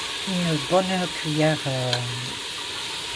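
Tomato paste sizzling in a pot of lamb trotter and bean stew, a steady soft frying hiss running underneath someone speaking French throughout.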